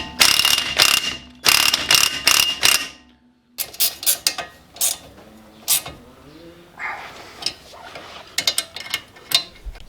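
Ratchet on a Daihatsu Mira clicking in rapid bursts as a part is tightened, with short pauses between runs of clicks, close and fairly loud.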